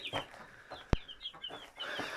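Chickens cluck and a rooster calls in short bursts inside a coop, with one sharp loud knock partway through, close by and without talk.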